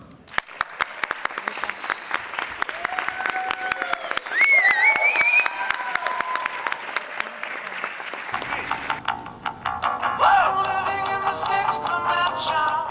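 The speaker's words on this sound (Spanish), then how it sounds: "Un fuerte aplauso para recibir en esta sala a Richard Elfman." An audience in a cinema hall at a film festival screening breaks into sustained applause with scattered cheers, the clapping swelling, then thinning as voices rise near the end.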